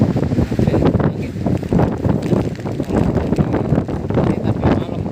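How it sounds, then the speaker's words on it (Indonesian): Wind gusts on a mountain trail descending from the Ngliman peak on Mount Wilis, a loud, constant rushing roar buffeting the microphone with uneven surges and no clear voices. "Angin."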